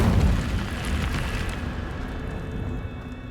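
An Incendio fire spell is cast in Hogwarts Legacy as a loud, roaring burst of flame that starts strong and slowly fades into a steady, crackling rush.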